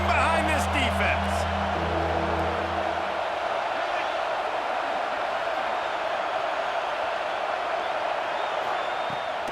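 A stadium crowd in a football video game roars in a dense, continuous wash of cheering that stays steady throughout, with a brief low musical hum at the start.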